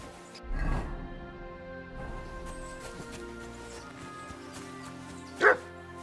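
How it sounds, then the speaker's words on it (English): A dog barks in Kingdom Come: Deliverance 2, a medieval-setting video game, with a burst of low yips early on and one sharper bark near the end over steady game ambience. "Barking?"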